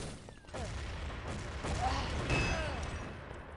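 Grenade blast during a competitive Counter-Strike match, a dense burst of explosive and gunfire noise over constant game background, loud and close, with no clear single isolated boom.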